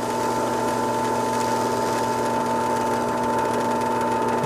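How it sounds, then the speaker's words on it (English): Scotch-Brite pad packed against the commutator of a GM power door lock actuator motor, which spins with a steady, close, whirring buzz throughout as corrosion and scoring are scoured off, no voices. "I'm just packing that Scotch-Brite up there against the commutator. Trying to get all the corrosion and scoring off of there."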